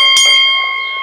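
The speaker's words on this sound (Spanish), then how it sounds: "¡Ay, campana!" A single bright bell strike rings loudly at a horse racetrack, its clear metallic tone sustaining and slowly fading over about a second.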